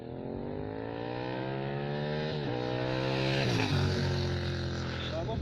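A Yamaha MT-07 motorcycle engine runs nearby, its pitch rising and dipping through several revs in a steady, throaty drone with no talk over it.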